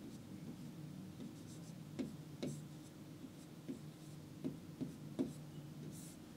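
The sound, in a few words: writing a word by hand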